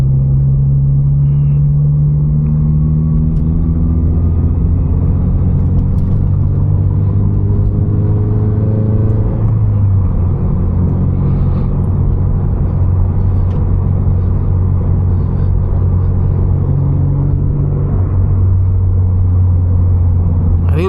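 A lowered Subaru BRZ rolls along rough California roads, its exhaust droning low and steady under a constant road rumble and tire noise from inside the cabin, with a few faint engine pitch shifts.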